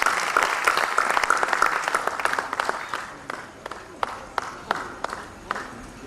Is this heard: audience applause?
yes